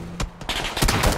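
Enemy gunfire in a video game crackles in several short, loud bursts close together, a quick fusillade of sharp shots with no talking.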